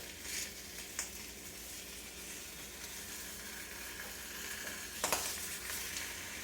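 Breakfast sandwich meat fries in a pan with a steady, quiet sizzle, broken by a couple of brief sharper crackles and spatula scrapes as it is flipped and stirred.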